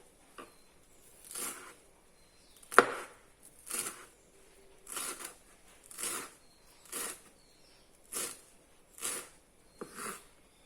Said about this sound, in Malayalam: നമുക്കിത് ചെറുതായിട്ട് അരിയാം.